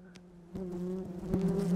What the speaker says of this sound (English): A wasp! I didn't think about a wasp!